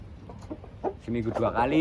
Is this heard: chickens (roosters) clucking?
yes